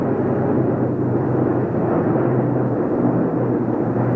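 A Boeing B-17E Flying Fortress four-engine bomber droning steadily, a loud, continuous low engine roar with no letup and no voices.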